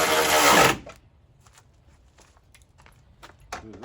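A power tool whirs loudly in one burst while top bolts are tightened on a 2006 Kia Sportage LX under rebuild, followed by quieter clicks and handling noises and a short final buzz.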